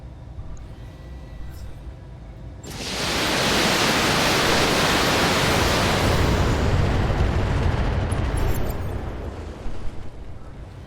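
A turret is destroyed in the mech combat game Battletech, an urban-warfare battle: a sudden, loud, broadband blast bursts in after a quiet moment and rolls into a sustained, roaring rumble that holds for several seconds.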